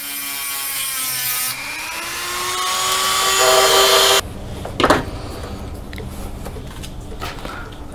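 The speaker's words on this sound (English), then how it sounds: "I use a small cutoff wheel and a Dremel tool. And just score it along here." A Dremel tool with a small cutoff wheel scores the metal whip of a VHF/UHF mobile antenna. The high-pitched whine holds and rises for about four seconds, then drops to a softer grinding scrape with a brief louder burst.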